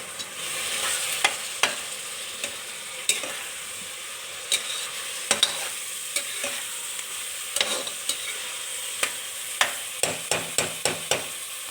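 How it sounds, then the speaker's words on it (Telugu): Tomatoes frying in a pan for egg curry give a steady hiss of sizzling oil, punctuated by regular sharp taps and scrapes of a spoon that quicken near the end, with no one speaking. "ఈలోపు ఇది ఫ్రై అవుతుంది"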